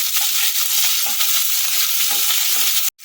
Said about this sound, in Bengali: পেঁয়াজ আর ক্যাপসিকাম একসাথে আমি দিয়ে দেবো দিয়ে আমি হাই ফ্লেমে এগুলোকে নাড়াচাড়া করে নেবো